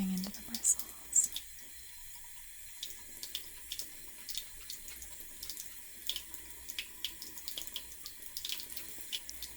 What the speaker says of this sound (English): I'm just really scrubbing this right in all of that kind of different texture on the scrubber tool, just to make sure I'm really getting into the bristles